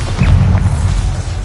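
A Bombarda spell explosion in Hogwarts Legacy lands as a single loud, deep boom with a short rumbling tail, close and heavy.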